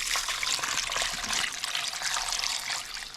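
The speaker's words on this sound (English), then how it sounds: "cover it with water" Tap water pouring steadily into a pot of salted pig's feet to soak them, a continuous bright splashing trickle close to the microphone with no talk.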